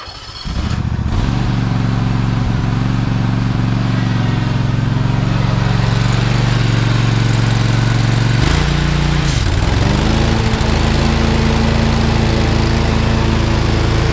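A 2020 Toro Titan lawn mower runs loud and close, its engine droning steadily after a brief start, then dipping and rising in pitch partway through as it works, with no voices.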